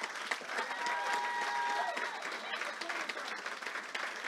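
Church congregation applauding during a service, a dense, sustained patter of many hands clapping at close range, with voices and talk mixed in throughout.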